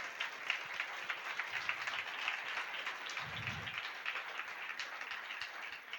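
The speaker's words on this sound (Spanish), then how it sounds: "¿Cuántos aplaudimos al Rey de Gloria?" A congregation claps for the King of Glory during a Spanish-language church sermon, a steady distant wash of applause that holds evenly throughout with no voices over it.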